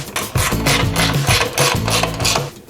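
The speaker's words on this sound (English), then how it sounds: "then you can go ahead and tighten up your 3/8 inch nuts" A ratchet or wrench tightens 3/8 inch nuts on the leg of a folding extension table, giving rhythmic close-up turning and ratcheting strokes with a low mechanical hum underneath.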